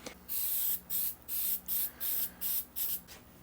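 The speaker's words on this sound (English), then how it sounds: "I'm going to hit these with some activator anyway just to make certain" CA glue activator is sprayed onto the fret markers of a rosewood Telecaster guitar build in seven quick aerosol bursts, each a soft hiss under half a second long, evenly spaced and close by, with no talk.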